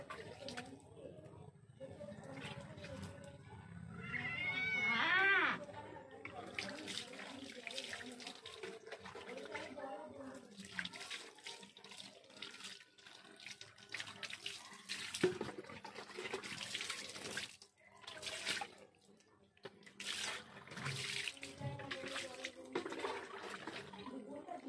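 Water runs and splashes from a tap while a cat is bathed, fluctuating and close, with people talking at moderate level throughout.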